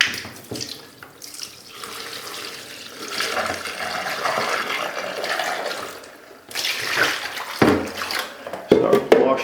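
A bucket of water poured to wash down a shower floor, a continuous splashing rush that swells, eases and surges again with clattering near the end, close by.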